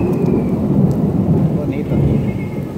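Heavy rain pours with deep rumbling thunder at the Xetulul theme park in Guatemala, a steady loud wash with low booms throughout and no talk.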